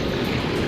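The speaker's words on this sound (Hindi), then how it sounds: "ललितपुर भोपाल रेलवे लाइन पर तो ट्रैक के ऊपर ही झरना बहने लगा।" Floodwater rushing over a railway line between Lalitpur and Bhopal, a steady broadband roar of flowing water with no pauses, loud and close throughout.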